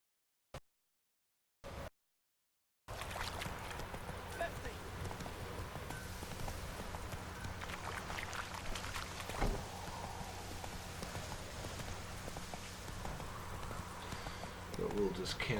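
Horse cantering in The Witcher 3, steady rhythmic hoofbeats running continuously at moderate loudness over a rainy-sounding ambient bed, after a couple of brief isolated blips at the start.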